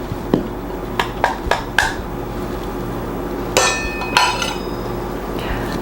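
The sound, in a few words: mixing dry ingredients in a separate bowl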